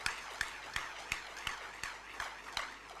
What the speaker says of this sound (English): I think you should clap for us